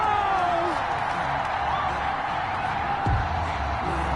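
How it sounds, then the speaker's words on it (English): Stadium crowd noise in Madden NFL 21 during a Baltimore Ravens game, a dense steady roar of displeasure right after a penalty flag, with a brief swell near the end and no voices over it. "Well, the crowd doesn't like that."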